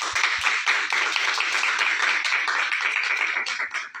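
Dense applause from a studio audience at a Radio Pakistan recording fills the stretch alone, steady and full, with a few sharper claps near the start.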